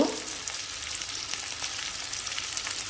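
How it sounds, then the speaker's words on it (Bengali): Potato and tomato pieces fry in a pan for a chhana curry, making a continuous soft sizzle close by with no speech. "আলুগুলো যখন হালকা লাল লাল হয়ে গেল, তখন এতে আমি অ্যাড করব কেটে রাখা টমেটোর টুকরোগুলো।"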